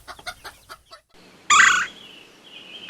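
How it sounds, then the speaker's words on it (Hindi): A chicken gives a few soft clucks, then a single loud, sharp squawk that tails into a thinner drawn-out call. The bird is close and alone. "मुर्गी"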